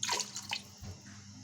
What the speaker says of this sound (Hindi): देखिए हमारा ये 1 मग पानी का चला गया।